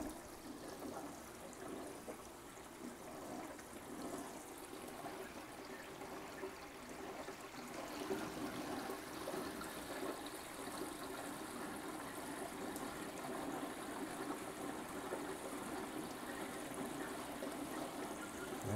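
Water from a 3000 GPH roller filter pump pours into a sump beside a 20-gallon tank, a steady broadband rushing and splashing that swells slightly and holds constant throughout.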